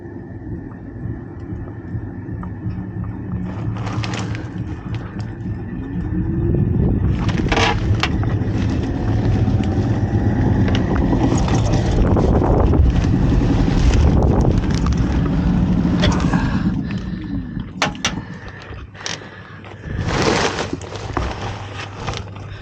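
Heat pump blower motor running with a loud, rough, rushing whir and rattly grinding that swells in the middle and eases off, broken by a few sharp clunks.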